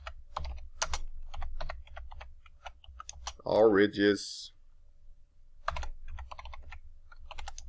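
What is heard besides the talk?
typing on a computer keyboard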